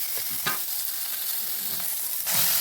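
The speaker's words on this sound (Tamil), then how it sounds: "இப்போ தக்காளி அரைச்சி வச்சதை போட்டு 2 நிமிஷம் வதங்கிட்டோம்" Ground tomato paste fries in hot oil with turmeric, asafoetida, coriander and curry leaves for pepper rasam, giving a steady close sizzle with a few soft stirring scrapes.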